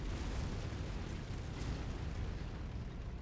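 Gunfire in a mercenary-hunting video game with mechs, heard as a steady, dense low rumble of distant shooting and booming, continuous and fairly loud throughout with no talking.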